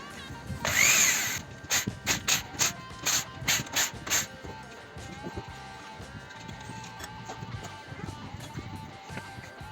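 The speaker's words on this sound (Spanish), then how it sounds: "quitamos los 4 tornillos de la culata" A power tool, likely a drill or impact driver, loosens the four cylinder head bolts on a Ducati 250 Deluxe engine during restoration, sounding in a loud initial burst followed by several short, rhythmic pulses, then quieter handling noises.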